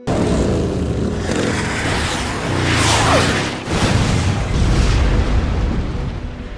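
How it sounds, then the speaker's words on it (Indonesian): A roaring rush builds into a heavy missile blast, followed by a second rumbling boom and lingering debris-like noise, loud and close, from a film. "Terlihat peluru kendali yang mengejar Ghost Rider dan akhirnya meledak."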